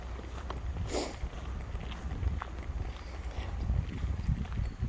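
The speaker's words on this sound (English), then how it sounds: "Don't like the wind." Gusty wind buffets the microphone on an outdoor walk, a steady low rumble with rising and falling blasts, faint footsteps and rustle underneath, no speech.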